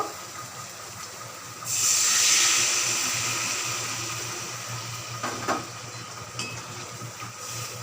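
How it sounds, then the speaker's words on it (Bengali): Water hits a hot pan of browned yam and prawn curry base with a sudden loud hiss, which slowly fades to a steady steaming sizzle, broken by a couple of faint utensil knocks. "ভালো করে কষানো হয়ে গেছে এবারে জল দিয়ে দেব"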